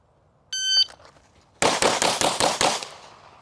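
Handgun shots in a concealed carry drill ring out as a rapid string of about seven sharp, loud reports, preceded by a brief electronic shot-timer beep.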